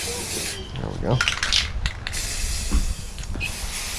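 Aerosol spray paint is applied to a 3D printed Scout Trooper cosplay helmet, giving close hissing bursts of varying length with small handling noises in between.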